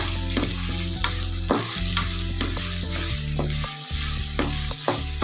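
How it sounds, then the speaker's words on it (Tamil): Green chillies sautéing in sesame oil for a spicy chilli thokku, with a steady loud sizzle and repeated scraping stir strokes of a spatula across the pan, no voices. "நான் நல்லா வதக்கிட்டு உங்கள்கிட்ட காமிக்கிறேன்"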